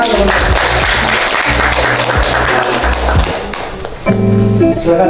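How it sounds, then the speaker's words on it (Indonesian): Classmates give a short round of clapping after a group presentation in a classroom, brisk hand claps mixed with taps and thumps, then a steady tone takes over toward the end. "Tepuk tangan teman-teman."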